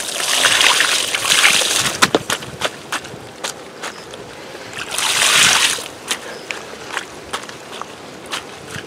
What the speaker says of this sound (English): I'm gonna add in some water.